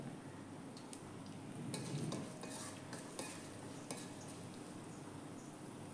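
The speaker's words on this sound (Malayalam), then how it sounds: "എന്നിട്ട് വെളുത്തുള്ളി ഒന്ന് നന്നായിട്ട് വാടി വരട്ടെ" Garlic sautéing in a pan for a Kerala mango curry, a soft steady sizzle with a few light metal taps and scrapes of a stirring spoon.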